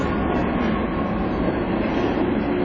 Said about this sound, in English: I'll let our friend the train get by and then I'll finish.